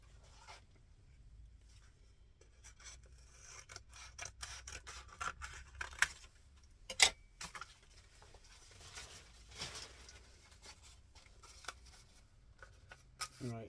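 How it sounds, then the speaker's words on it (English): Scissors cut material down to a smaller size in quiet, close snips and rustles, irregular and sparse, with handling noise between cuts. "Right, so I've cut it down to a more manageable size."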